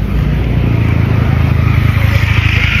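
A motorcycle engine runs loud and close on a hillside road, a steady throbbing drone that holds evenly throughout with no break.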